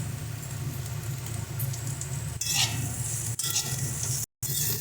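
Soaked raisins drop into a pan of frying carrots and cauliflower, giving a steady close sizzle with soft stirring scrapes and a brief burst of spatter midway, then a short dropout.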